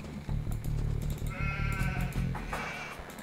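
Sheep bleat in the video game Age of Empires 2 as they are herded toward a town center, a wavering, quavering cry rising over a low humming game soundtrack, close and clear.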